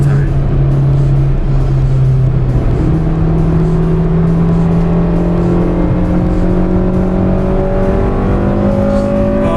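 An Acura Type S car engine revs hard and rises steadily in pitch through its VTEC changeover, loud and close, holding a sustained rising drone for the whole stretch.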